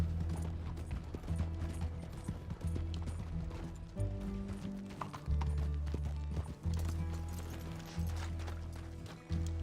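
Hooves clip-clop in a steady trot in Red Dead Redemption 2, close and rhythmic, with creaking coach-wheel and harness mechanisms rattling along beneath and a low rumble underneath.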